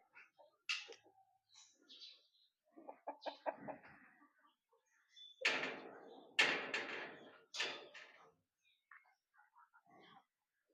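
Native chickens cluck and squawk close by in a bursty series of calls, some short and clipped, others louder and longer, with quiet gaps between.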